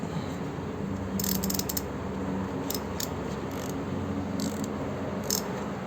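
A KTC Nepros 90-tooth ratchet wrench clicks in short, fast bursts of fine ticking, repeated several times over a low steady background hum, fairly close and alone without talk.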